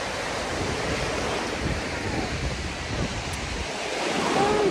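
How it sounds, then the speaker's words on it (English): Ocean waves rolling in at a beach on a breezy day, a broad, steady wash of surf mixed with wind buffeting the microphone, loud and continuous with no talking. "The waves are coming in, you know, but not too rough to where we can't enjoy it."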